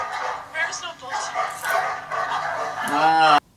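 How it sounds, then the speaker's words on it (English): Dogs barking and yelping in quick bursts under talking voices, with a loud, close, drawn-out yelp just before it cuts off. "when I heard the dogs barking"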